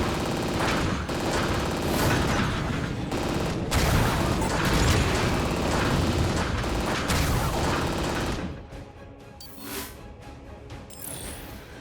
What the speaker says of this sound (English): Did not mean to double click and use the shoulder rockets.